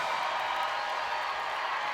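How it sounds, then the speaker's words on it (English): A gymnastics arena crowd roars at Bud Walton during an Alabama at Arkansas meet, a steady, dense wash of distant cheering and applause with no breaks. "You can just hear the crowd heating up."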